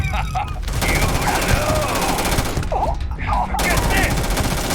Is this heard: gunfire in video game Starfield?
yes